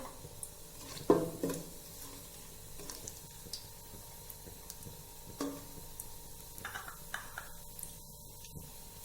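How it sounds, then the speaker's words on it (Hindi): Coconut frying in oil in a pan while making sweet vermicelli, a faint, low sizzle with occasional soft utensil clinks and stirring sounds, quiet and close. "थोड़ा सा कोकोनट भी हम इस ऑयल में ऐड करके इसको फ्राई करेंगे।"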